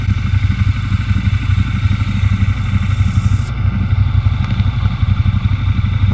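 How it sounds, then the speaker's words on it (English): A Triumph Bobber motorcycle engine runs steadily nearby with a loud, continuous rumbling idle. It is parked outside a small pub, and the engine is heard alone with no talking. "this is a Triumph Bobber, the other one to try."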